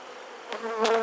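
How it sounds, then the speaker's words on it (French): Honeybees buzzing around the hives during an outdoor hive inspection, a close, steady drone with a couple of louder passes as bees fly near, heard alone for about a second. "Allez, visite des ruches. Il y a du monde partout."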